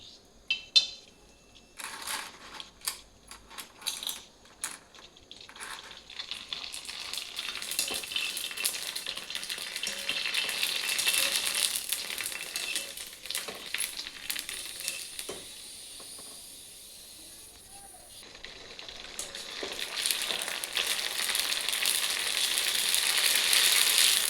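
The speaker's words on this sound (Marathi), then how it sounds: "चला आता आपण तेल गरम झाल्यानंतर पाणीपुरीचे फुगे तळून घेऊ" Puris for pani puri frying in hot oil, giving a steady, fairly loud sizzle and hiss with crackling pops. The sizzle builds and stays continuous for the whole stretch, dips briefly, then swells again, with no talking.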